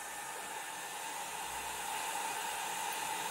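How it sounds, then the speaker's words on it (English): A Revlon brush hair dryer blows a steady airy hiss at low level, constant and even throughout, with no talking. "Now this is my Revlon brush hair dryer."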